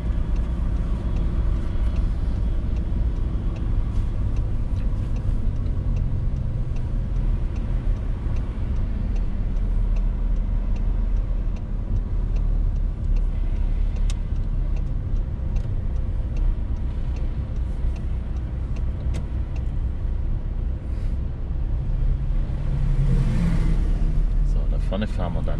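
A car drives steadily during a driving test, its low engine and road rumble continuous throughout, with faint ticking like an indicator and an instructor's voice speaking over it.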